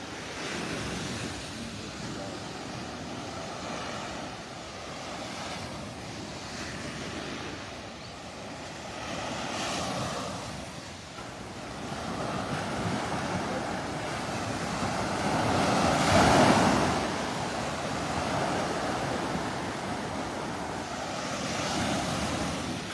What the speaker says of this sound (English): Those waves are playing our tune.